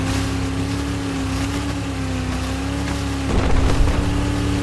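Boat engine from Battlefield 4, Hainan Resort map, a steady droning motor hum with strong low tonal lines, growing rougher and louder in the last second as water and wind noise surge.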